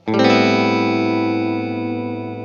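A single open-string electric guitar note or chord on a Lollar Gold Foil bridge pickup rings out with a bright, slightly gritty tone, sustaining and slowly fading over a couple of seconds.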